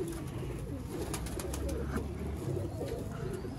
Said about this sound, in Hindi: ये हैं जेन्युइन सियालकोटी शेखों वाले लाल चिड़ी कबूतर, काले मुंह वाले कबूतर